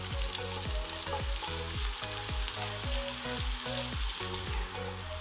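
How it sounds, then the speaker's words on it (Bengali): Chopped onions for chana dal bhuna fry in hot oil on a full flame, giving a loud, continuous close sizzle with a repeating falling whine underneath. "এই ধরেন মিনিট খানেক পেঁয়াজগুলোকে ভেজে নিচ্ছি"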